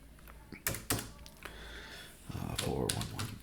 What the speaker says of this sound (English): but I can type it in